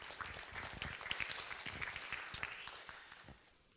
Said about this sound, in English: Can we give a round of applause for Evangeline?